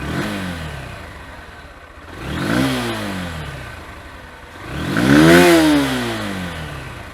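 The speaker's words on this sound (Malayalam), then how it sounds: "ഇനി ഇത് റിവ്യൂ ചെയ്യുമ്പോൾ ഉള്ള സൗണ്ട് എങ്ങനെയാണെന്ന് ഞാനിപ്പോൾ കേൾപ്പിച്ച് തരാം." Honda CB Hornet 160R motorcycle engine revved in two throttle blips, each rising and falling smoothly, the second louder and longer, close by with the engine idling steadily between them.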